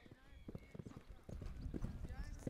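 A horse cantering during an eventing jumping lesson, rhythmic muffled hoofbeats with snorting breaths, moderately close and fairly faint, mixed with a person speaking over it.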